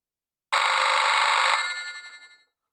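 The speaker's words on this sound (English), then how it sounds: "Your Acme phone is ringing." A phone ringtone plays from the Wiimote speaker in a WiiWare video game: one bright, buzzy ring burst of about a second that then decays away, with silence around it.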